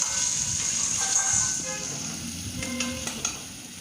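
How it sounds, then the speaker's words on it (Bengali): Chicken being stir-fried in spice masala for chicken kosa, giving a steady close sizzle with a few soft stirring scrapes and faint clinks, and no voices. "মশলাটার উপরে আমি এবার মাংসটা দিয়ে দিচ্ছি। ভালো করে নেড়ে চেড়ে এটাকে কষাবো"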